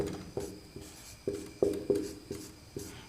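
Pen strokes writing out a math problem on paper, a series of short scratchy marks in an uneven rhythm, close and quiet, with no voices.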